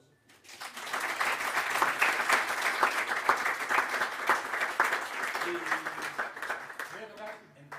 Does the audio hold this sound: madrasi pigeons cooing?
no